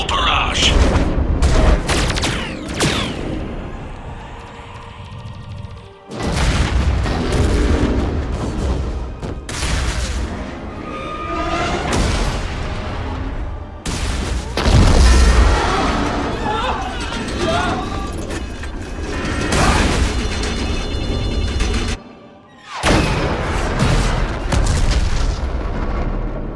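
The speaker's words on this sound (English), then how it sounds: "All ships, full barrage." A starship artillery barrage in the game Mass Effect 3, heavy booming volleys and rumbling blasts in long loud bursts with brief breaks, under intermittent voices.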